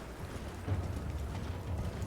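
Horse hooves clop at a steady pace in the video game Elden Ring, faint and muffled under a low rumbling background, with no talk.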